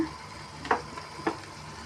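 Sliced okra sizzling with softened tomatoes in a pan for a ladies finger curry, a low steady fry with two brief louder bursts as the mixture is stirred, close and without talk.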